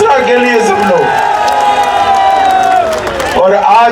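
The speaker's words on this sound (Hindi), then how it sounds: "जरा जोर से ताली बजाओ कपिल मिश्रा के लिए सब लोग" Large crowd at a Karawal Nagar, Sonia Vihar political rally for Kapil Mishra, led by Amit Shah: loud, close cheering and clapping with sustained shouts rising over the din throughout.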